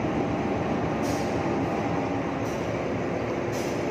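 Trains at Gubeng railway station in Surabaya, a steady broadband rolling rumble of railcars filling the whole stretch, with brief brighter hiss bursts recurring every second or so, no voices.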